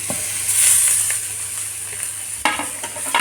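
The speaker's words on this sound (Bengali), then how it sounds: "তার আগে আমি মাছগুলো এর মধ্যে দিয়ে একটু নেড়ে চেড়ে নেব সমস্ত মাছ দিয়ে দিলাম" Hilsa fish frying in a pan with a steady, close sizzle while being stirred, with a few scraping strokes near the end.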